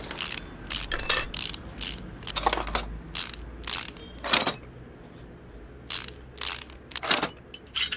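Mechanical clicks and ratcheting bursts from removing an ABS module in Car Mechanic Simulator 2018, a quick string of sharp tool-like ticks and clatters with short pauses between them, fairly quiet and without talk.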